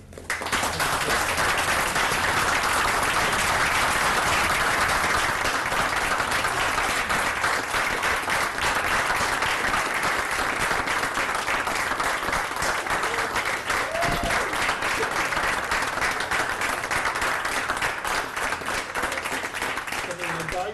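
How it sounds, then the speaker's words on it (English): Sustained applause from an audience at a town council meeting in Metuchen, a steady dense wash of clapping that holds loud for about twenty seconds with no voices over it. "he deserves a real round of applause"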